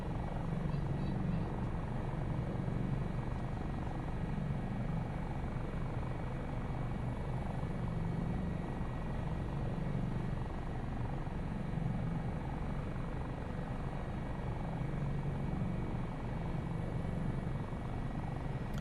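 Simulated AS365 Dauphin helicopter in Microsoft Flight Simulator, a steady, continuous rotor and turbine drone with a pulsing low throb, heard alone and evenly throughout at a quiet level.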